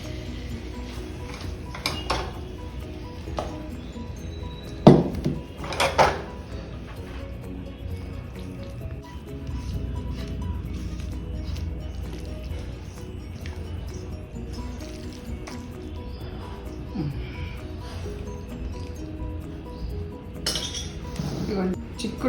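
Beans and dry fish curry scooped from an iron pan into a bowl, with bright clinks of metal and glass, a couple of louder knocks early on, and soft scraping between them.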